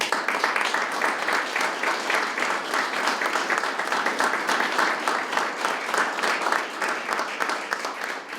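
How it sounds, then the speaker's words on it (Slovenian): Warm audience applause at a formal municipal award ceremony in Ravne na Koroškem, Slovenia, a dense, steady wash of many hands clapping throughout, sustained at an even level without pause. "Prosim za topel aplavz zanje."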